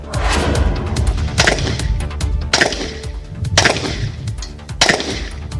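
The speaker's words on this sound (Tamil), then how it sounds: "பெண் காவலர்களுக்கான தேசிய அளவிலான துப்பாக்கி சூடு போட்டி நடைபெற்று வருகிறது." Rifles crack at a national-level shooting competition for women police in Othivakkam, Chengalpattu: sharp, loud gunshots ring out at irregular intervals of about a second, each followed by a short echoing tail over a dull outdoor rumble.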